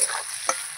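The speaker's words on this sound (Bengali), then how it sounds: "আমি কুচিয়ে আলুর সঙ্গে ভেজে নিচ্ছি" Potatoes and chopped onion fry in a pan with a steady, close hiss of oil and one brief stirring scrape, no voices.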